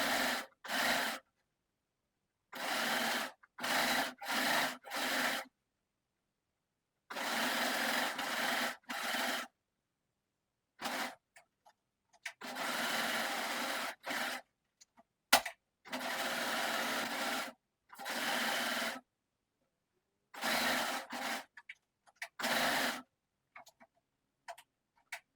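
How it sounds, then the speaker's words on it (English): A sewing machine or overlocker finishes the side seams of boxer shorts in short separate bursts, each run of rapid stitching broken by silent pauses, heard close with no talking. "Finish the entire length of all 4 side seams with an overlocker or zigzag stitch."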